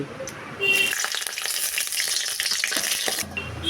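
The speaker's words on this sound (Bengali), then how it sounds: "দেব কুচনো রসুন" Chopped garlic hits hot oil in a pan while cooking a jute-leaf dish, setting off a sudden loud sizzle that crackles steadily for about three seconds and then stops abruptly, with no speech.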